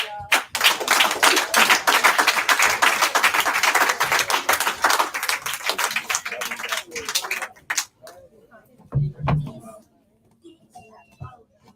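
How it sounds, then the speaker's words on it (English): A church congregation claps for Yahweh, a dense burst of applause lasting several seconds that tails off into scattered claps, followed by quiet voices talking. "Let's give a hand clap for the Most High Yahweh"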